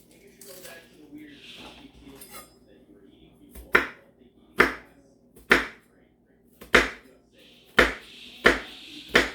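Half an onion is cut on a cutting board with seven or eight sharp, evenly spaced knife strikes, loud and close, after a few seconds of quieter handling and rustling.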